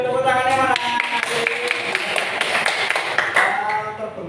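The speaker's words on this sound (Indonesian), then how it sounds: "Oke, beri tepuk tangan buat kelompoknya Mbak Nadine." A classroom of students claps for a group that has just presented. The clapping is dense and close, with a teacher's voice speaking over the start.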